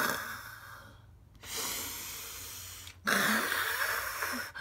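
A person forcefully exhales in imitation of a fire-breathing dragon, giving two long, loud, breathy rushes of air separated by a short pause, close to the listener with no speech.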